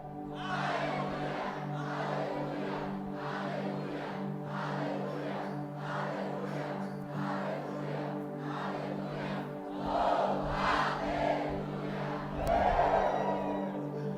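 A church congregation shouts a run of hallelujahs on cue, about seven loud collective bursts spaced roughly a second apart, over sustained keyboard chords that carry underneath throughout.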